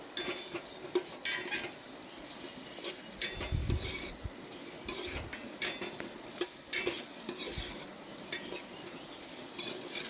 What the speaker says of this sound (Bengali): তারপর আলুগুলো দিয়ে একটু নাড়াচাড়া করে নেব।